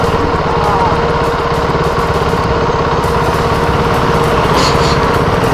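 A KTM motorcycle engine runs loud and close, a rapid buzzing rumble that rises slightly in revs, with muffled talk faintly under it.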